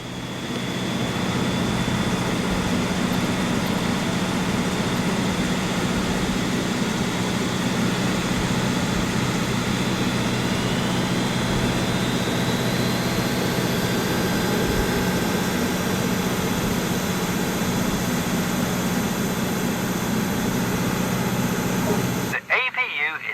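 Aircraft engine starting up at an airport in the game AirportSim: a steady, loud droning whine with a slowly rising tone, running continuously under a voice and cutting off abruptly just before the end.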